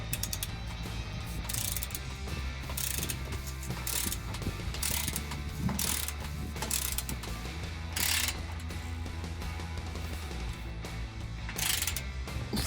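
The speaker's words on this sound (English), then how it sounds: "using our 15mm socket and torque wrench, we're going to want to torque that down to 45 foot-pounds as well" A 15mm socket on a torque wrench tightens an exhaust bolt on a 2017-2020 Ford F150 5.0L during a K&N single exhaust install, giving steady mechanical ratcheting clicks with a few sharper bursts, close and continuous.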